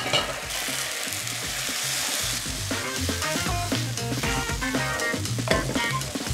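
Starchy pasta boiling water hits sizzling tom yum paste in a hot pan, giving a loud, steady, crackling sizzle throughout, with faint music in the background.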